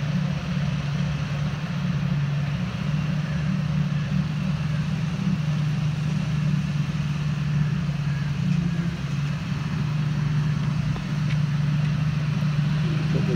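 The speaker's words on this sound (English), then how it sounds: "Got the John Deere and the Herne trailer." A John Deere tractor hitched to a Herne trailer idles steadily nearby, a loud, constant low engine drone with no breaks.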